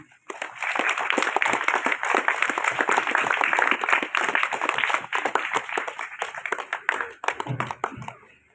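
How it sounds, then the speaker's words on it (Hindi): Sustained applause from a seminar audience of cadets, dense steady clapping that starts abruptly, holds strong for several seconds, then thins and tapers toward the end. "तो एक छोटी सी ताली आप सभी के लिए मैं बजाना चाहता हूँ।"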